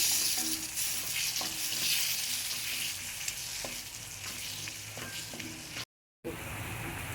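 Paneer masala gravy sizzles and fries in a pan with steady crackling, broken by scattered scraping taps of a spoon stirring it. A brief dropout comes near the end, and no one speaks.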